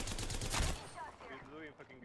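Gunfire in a shooter video game plays as a dense burst of rapid shots, then gives way to fainter game sounds and voice-like tones.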